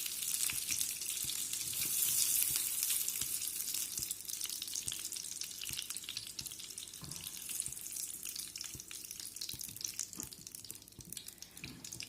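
Chicken liver pancakes frying in hot oil, a steady close sizzle and crackle with scattered pops that carries on evenly without any voices.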